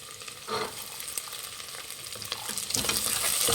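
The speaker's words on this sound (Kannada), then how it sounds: "ಬಟಾಣಿ ಎಲ್ಲ ಹಾಕಿ ಕೈಯಾಡಿದ್ದೀನಿ" Green peas being stirred and fried with onions and green chillies in a pan for tomato bath, a soft sizzle with scraping stirs that grows slightly louder and busier toward the end.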